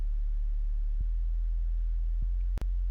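A deep, sustained sub-bass tone from a beat production plays alone, with a couple of soft pulses and a brief click near the end.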